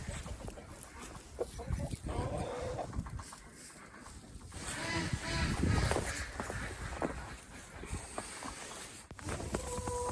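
Chickens cluck and squawk intermittently, close by, amid scuffling and general barn noise, with no talking.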